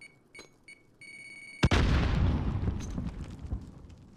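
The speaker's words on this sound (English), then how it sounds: "Get a Semtex over that ridge." Semtex grenade explosion in a first-person shooter match. A few short electronic beeps come first, then a sharp loud blast that rolls into a long rumbling decay with scattered debris-like crackles.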